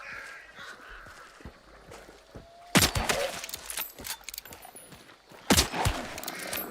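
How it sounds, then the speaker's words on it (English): Crows cawing in the video game Hunt: Showdown, faint calls over quiet outdoor ambience, broken by two loud sharp bursts like gunfire. "More crows."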